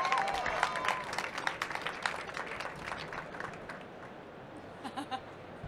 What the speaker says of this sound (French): je vous demande d'accueillir avec un tonnerre d'applaudissements